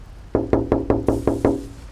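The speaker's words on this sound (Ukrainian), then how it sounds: "Зі сну висмикнув стукіт у вікно." Six sharp, evenly spaced knocks on a window, close and fairly loud, with no voices in a quiet room.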